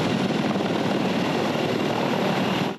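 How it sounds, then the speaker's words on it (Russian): A Russian-made helicopter flies during a test, its engine and rotor producing a loud, continuous broadband roar that holds steady throughout before cutting off at the very end. "Испытание вертолета российского производства."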